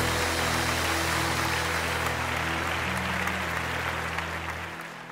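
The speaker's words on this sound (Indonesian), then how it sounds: "Tepuk tangan buat Tuhan Yesus" Clapping for Jesus at an online Sunday school service, a steady broadband patter of hands that holds evenly throughout, with a low sustained hum beneath it, then thins and fades near the end.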